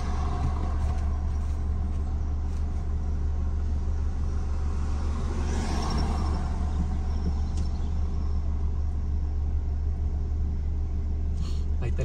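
Steady street traffic rolls through Tijuana's city centre, a continuous low rumble of cars, buses and trucks with a vehicle swelling past midway, heard alongside people talking.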